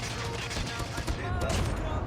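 Rapid burst of gunfire from a Call of Duty Mobile match, dense and continuous crackling shots filling the short stretch with no voices.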